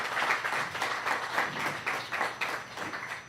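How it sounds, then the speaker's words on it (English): Audience applause at an evening launch and lounge event, a steady moderate wash of many hands clapping at once, fairly even throughout with no talk over it. "Please give them a round of applause."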